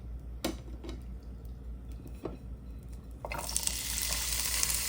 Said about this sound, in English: So we're gonna go ahead and drop these vegetables.